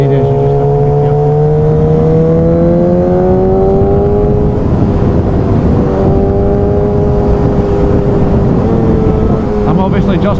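A Suzuki GSX-S 1000cc motorcycle engine drones loudly and continuously while riding damp roads through sweeping corners, its pitch rising and falling with throttle changes, with a voice talking over it.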